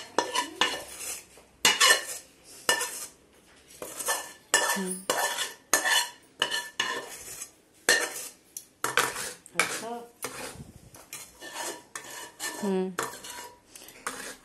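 A semolina (suji) mixture stirred in a metal pan for rava ladoo, a spoon clanking and scraping in quick irregular bursts with brief pauses between strokes, close and clear.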